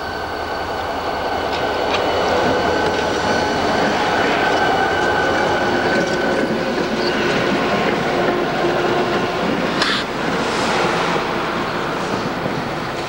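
A railroad snowplow train runs along the main line on the Escanaba & Lake Superior Railroad, a loud continuous rumble of rolling wheels and clattering cars with faint metallic squeals, close by.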